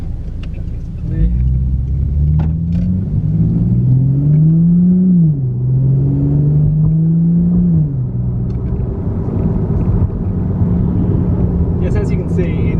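A Ford Falcon FG fitted with a cold air intake accelerates hard, its engine note climbing through the revs in a loud, close rumble and then settling, with someone talking over parts of it.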